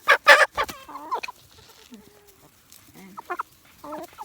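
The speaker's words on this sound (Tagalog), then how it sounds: "Ito yung ating barred Plymouth" A barred Plymouth Rock hen clucks in short, scattered bursts at close range, with a few sharper calls and quiet gaps between them, heard alone without talk.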